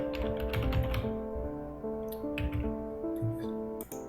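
Rapid typing on a computer keyboard, with bursts of crisp clicking keystrokes close to the microphone over a steady background of sustained tones, pausing briefly between runs.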